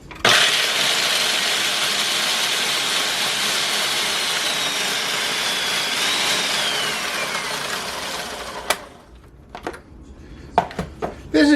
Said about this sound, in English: I'm going to put 6 ginger snaps in the food processor.